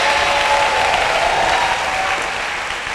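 Sustained applause from a church congregation during a Sunday service, loud and dense, many hands clapping together, with a faint sustained tone and some voices underneath, easing slightly toward the end.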